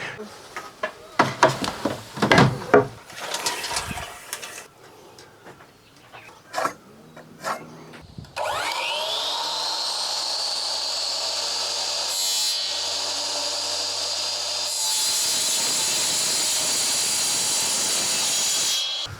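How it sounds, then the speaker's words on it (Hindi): Wood is cut for the side-wall framing of a camper van build. Scattered knocks and rubbing handling sounds come first, then a power saw starts and runs as a loud, continuous whine for the final ten seconds or so. "जो अभी हमने लकड़ी कट किया"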